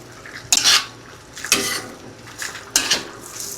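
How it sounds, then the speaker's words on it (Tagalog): Three distinct scraping, clattering strokes of a utensil stirring sweet and sour sauce for tilapia in a metal pan, close and moderately loud, spaced about a second apart with quiet between them. "Haluin."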